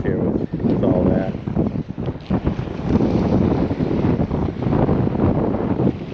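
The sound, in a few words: wind blowing on the beach while surf fishing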